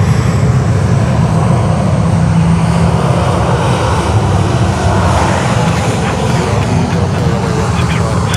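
Airliner taxiing at Sydney Airport during morning rush hour: a loud, steady broadband jet rumble and roar filling the whole clip, with a voice talking over it.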